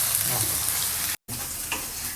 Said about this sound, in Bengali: বাটা পেস্টও ভাজা হয়ে গিয়েছে